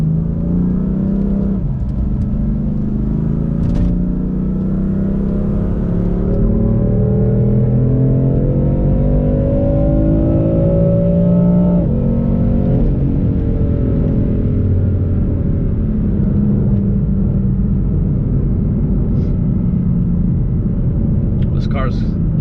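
A BMW M3 F8x on a completely stock exhaust and intake revs repeatedly, its engine note rising and falling in loud, close sweeps that stay steady for the whole stretch, with no talking over it.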